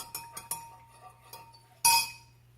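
A metal spoon and a strainer clink together in a kitchen, several light separate taps followed by one louder metallic clatter, close by with no talking.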